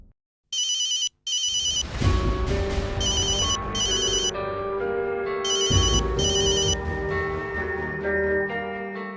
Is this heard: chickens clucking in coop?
no